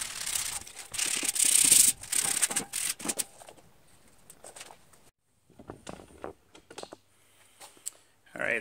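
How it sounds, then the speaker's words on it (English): Sheets of 80 grit sandpaper rubbing over part of a mini bike in quick, scratchy strokes, loudest at first and then fading into intermittent lighter rubs, with some speech. "So I've got some 80 grit sandpaper here."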